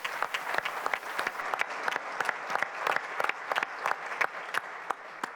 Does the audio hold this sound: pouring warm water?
no